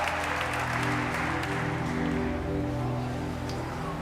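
Church congregation applauding during a worship service, a dense, continuous wash of clapping that holds steady throughout with no pauses.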